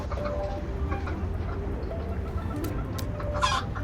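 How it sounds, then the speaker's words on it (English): Chickens cluck softly and intermittently against a low background hum in Jurassic World Evolution 3, with a few sharper squawks near the end. "I'm back with the chickens"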